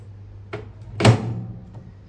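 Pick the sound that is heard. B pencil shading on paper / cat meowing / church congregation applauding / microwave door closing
microwave door closing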